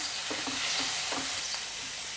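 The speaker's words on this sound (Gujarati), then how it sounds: "હવે બધા જ મસાલા આપણે આ રીતે સાતળી લઈશું" Ginger-chili paste and spices sauté in a pan with a loud, steady sizzle, broken by a few soft stirring scrapes at irregular intervals; no voices.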